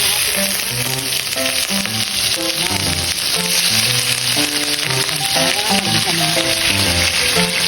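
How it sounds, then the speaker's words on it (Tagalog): Pork steak fries in a pan with a loud, continuous sizzle and crackle, heard under a bed of background music. "prituin na natin"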